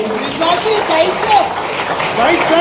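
Crowd applause for cricketer Kranti Gaud at an honour ceremony, a steady wash of clapping running the whole time beneath someone speaking over a microphone.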